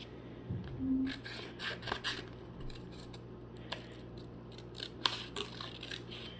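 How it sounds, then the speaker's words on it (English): Scissors snip around a vinyl Baby Yoda decal in a string of close, crisp cuts and light rubbing of the material, scattered irregularly over a quiet room. "I'm just going to cut it out as close as I can without cutting it."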